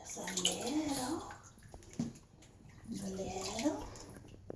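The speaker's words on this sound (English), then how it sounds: "Let's wash some stink off yourself." Water splashes steadily while a dog is washed, with running and sloshing close by and a person talking softly over it.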